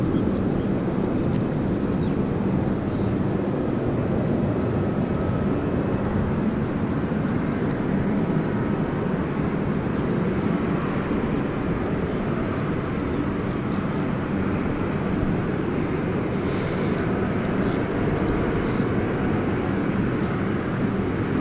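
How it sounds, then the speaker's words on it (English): A small Cessna light aircraft waiting for takeoff at Gold Coast Airport, a steady, broad engine drone held at a distance for the whole stretch with wind-like rumble and no voices. "Whilst we wait for that little Cessna to take off"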